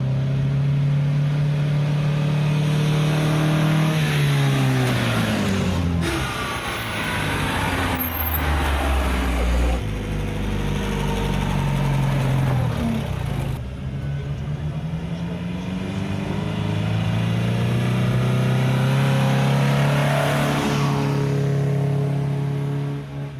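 A vintage pre-war supercharged 3-litre Lagonda engine revs up and settles back to idle several times, rising and falling pitch sweeps, loud and close, with no talk.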